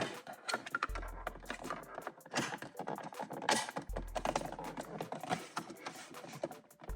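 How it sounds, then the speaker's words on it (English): Plastic dash cam mount tabs snapping onto a car's rearview mirror: a string of small, close clicks and taps, with a couple of brief firmer snaps, amid handling noise and no talking. "make sure you hear them click in"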